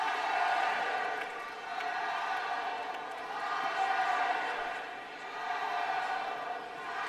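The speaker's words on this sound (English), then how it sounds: "Here comes the crowd." A baseball stadium crowd at an NCAA Super Regional game between Florida State and LSU swells into cheering, a broad distant roar rising and falling in waves behind faint commentary.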